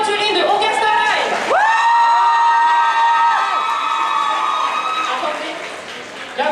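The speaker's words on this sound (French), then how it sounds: "S'il vous plaît, applaudissez très fort Raina dans son cosplay d'Aventurine de Onka Starlight." A cosplay contest audience at Kamopolis 2026 cheers and shouts loudly for a cosplayer dressed as Aventurine, a dense, sustained crowd roar with bright rising and held yelling tones.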